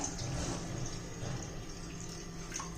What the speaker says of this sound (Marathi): गॅस चालू करायच्या आधी आपण बीटचा ज्यूस घालायचा आहे